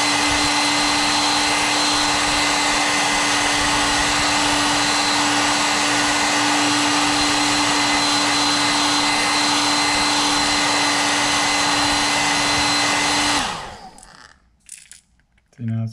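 A hair dryer blows steadily to heat-set airbrushed paint on a custom crankbait fishing lure, a loud, even whirring hum that runs for about thirteen seconds, then cuts off, leaving a few soft knocks and handling sounds.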